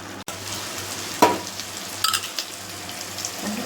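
Ingredients for jackfruit biryani sautéing in a pan, a soft steady sizzle with a couple of brief utensil clatters and scrapes, close and without speech.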